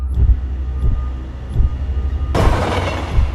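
Deep rumbling and rhythmic thuds from a train passing at a railway station, growing louder and harsher partway through with a broad rushing noise.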